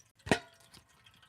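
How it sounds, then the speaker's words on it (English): Water pours into a water bottle, heard as a single quick splashing plop followed by faint trickling and dripping, close by and quiet. "I am filling up my water bottle here."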